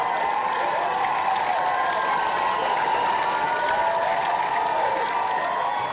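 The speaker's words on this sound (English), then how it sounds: "they give me a great cheer as well" A studio audience on a live Friday night show cheers and applauds in a steady, dense roar of clapping and whoops that holds at full level throughout, with no pause.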